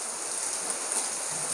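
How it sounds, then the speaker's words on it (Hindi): Heavy, steady rain pours down in Sikar on a windless day, a dense continuous hiss of drops on surfaces that stays loud and unbroken throughout, with no voices. "तो बहुत ज़बरदस्त बारिश हो रही है"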